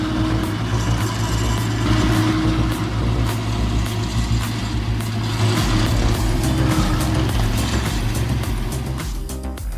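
A Komatsu 830.3 forestry machine with a 134-horsepower engine strains in thick forest mud, making a loud, continuous low engine drone that holds steady throughout and eases off slightly at the very end.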